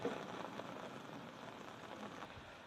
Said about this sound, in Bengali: জল দিয়ে ধোয়ার আগেই বৃষ্টি জল ধুয়ে দিচ্ছে